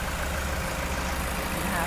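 A Toyota diesel engine idles with a steady low rumble throughout, close and continuous, while someone talks over it.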